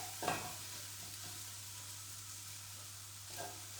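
Onions frying in a pan on a hob for an easy five-ingredient chilli give a faint, steady sizzle with a couple of soft stirring scrapes near the start and end, under a low constant hum.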